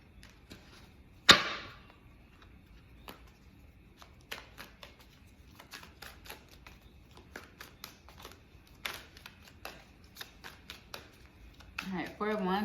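Tarot cards being shuffled by hand, a sharp riffle burst near the start followed by a string of soft, irregular card taps and slides, close and quiet.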